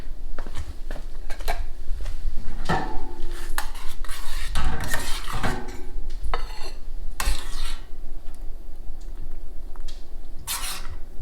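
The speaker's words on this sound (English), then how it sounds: "Then we're gonna pile some beans on here." Spoon scraping and clinking against a plate and dish while baked beans are piled onto buttered toast, a busy run of close clatter and wet scoops with no talk.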